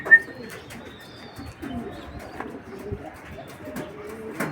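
A racing pigeon, recovered from a twisted-neck illness, coos quietly in short low bursts nearby, with a few sharp knocks and faint background sounds.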